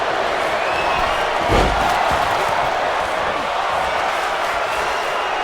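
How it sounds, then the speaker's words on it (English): Dense arena crowd noise from a WWE 2K25 wrestling match, the crowd chanting during a ladder match, a steady loud roar throughout with a brief thump near the middle and no clear commentary over it. "Crowd chanting, "This is awesome."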